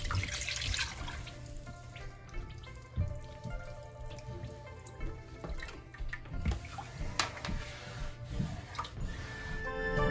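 Water is poured onto cornflour, at twice the amount of flour, in a home kitchen while making seviyan, a trickling, splashing pour with small drips and clinks, fairly close and without talk.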